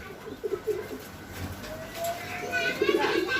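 A pigeon coos softly in short low bursts, close by, with faint background noise between the calls.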